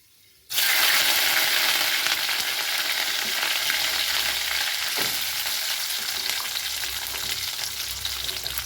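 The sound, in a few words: garlic and shallots frying in oil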